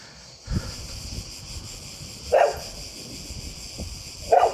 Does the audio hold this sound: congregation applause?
no